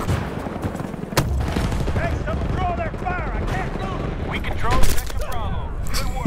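Gunfire from the Battlefield 2042 video game: dense, sustained bursts of shots and explosions running throughout, with voices talking and calling out over the battle.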